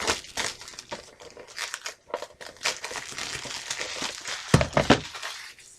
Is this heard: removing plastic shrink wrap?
yes